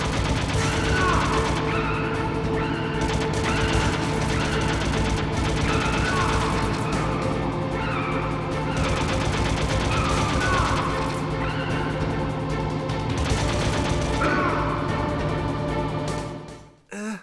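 Continuous gunfire while shooting waves of enemies in the on-rails tunnel sequence of Metal Gear Solid on PS1, with dense, repeated shots and impacts rattling steadily over a droning game background for a long stretch.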